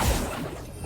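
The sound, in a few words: Accio spell cast in Hogwarts Legacy video game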